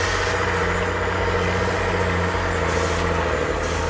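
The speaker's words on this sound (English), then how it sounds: "The Peterbilt 359, an icon of chrome and raw power." Peterbilt 359 truck with a Cat 3406 diesel engine idling in a steady, loud low rumble, with no break or change.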